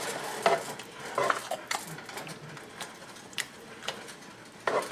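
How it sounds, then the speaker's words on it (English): Ground beef stroganoff with sour cream is stirred in a pan, with a spoon scraping and clattering against the metal in uneven strokes over a soft background hiss. "we're just going to stir this around a little bit"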